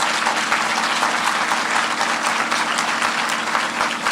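Dense, steady applause fills an auditorium as a large audience claps for the South Carolina district teachers of the year, with the sound staying even and loud throughout and no one speaking.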